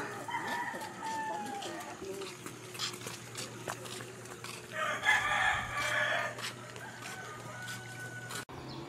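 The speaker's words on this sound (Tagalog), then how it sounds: "Sabay-sabay nang nagtitilao kanyang manok." Several roosters crow at a distance before dawn, their calls overlapping one after another over a low steady hum.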